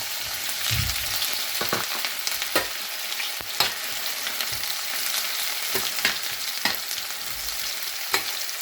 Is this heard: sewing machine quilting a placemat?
no